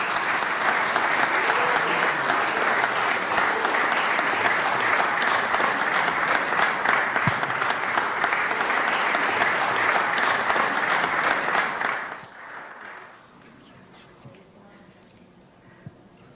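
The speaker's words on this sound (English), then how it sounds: "Give her a wonderful hand clap." An interfaction conference audience applauds warmly, dense sustained clapping filling the room for about twelve seconds before cutting off to quiet room tone with faint voices.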